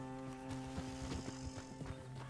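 Video game horse hooves clopping in a steady, quick rhythm over a constant droning musical hum, with a faint whinny-like texture.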